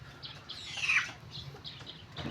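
A broodcock rooster being bathed and groomed at home gives short clucking calls, fairly close and moderate in loudness, with a brief louder burst in the middle.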